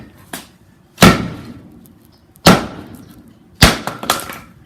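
An Estwing steel-handled camper's axe strikes and splits wood in three loud, close, sharp impacts spaced about a second apart, each followed by a short ringing decay, with a lighter tap before the first blow.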